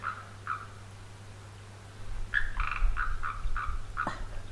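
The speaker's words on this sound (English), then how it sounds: "I think it's a little foam nest frog living somewhere." A small foam nest frog calls near a waterhole with short, bright clicking croaks repeated at irregular intervals, faint at first, then more rapid and clustered over a low steady hum.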